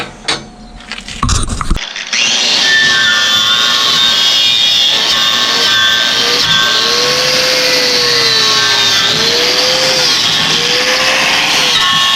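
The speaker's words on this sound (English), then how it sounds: "Alright, let's weld it." Welding on a Harbor Freight vise stand: a steady, loud, continuous buzzing crackle of an arc runs for about ten seconds after a brief clatter at the start, with no talking.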